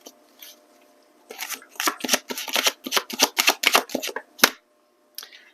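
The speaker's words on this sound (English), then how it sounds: "So let's grab another card from this deck here." Tarot cards being handled and drawn from a deck, a quick run of crisp papery flicks and snaps close up, then a short pause and one last flick, with no talking.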